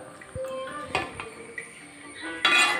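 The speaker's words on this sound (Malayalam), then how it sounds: "നല്ലപോലെ ഇത് ഇളക്കി കൊടുക്കാം." A spoon clinks and scrapes against a pan while okra theeyal curry, with fried okra in a roasted coconut gravy, is stirred, with a few soft knocks and a light background hiss.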